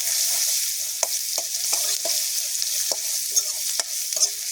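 Steady oily sizzle of onions frying in hot oil, with occasional sharp pops and spoon taps against the pan, no voices.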